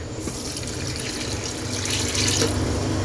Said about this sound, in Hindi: जी तो इसमें मैं 4 कप पानी ऐड कर दूंगी।